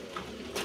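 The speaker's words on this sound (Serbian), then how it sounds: "Ja pustio golubove." Racing pigeons released into the air at Barajevo, Serbia, giving brief soft coos and a burst of fluttering, close by over steady outdoor background noise.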